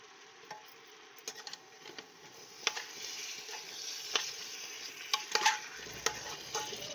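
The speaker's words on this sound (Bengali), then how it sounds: "আমি এখানটায় আলুগুলো মশলা কষে নিচ্ছি সুন্দর করে" Potatoes sauté with spices in a pressure cooker for a potato curry, a faint soft sizzle with scattered scraping stirs and light clinks, fairly quiet and without talk.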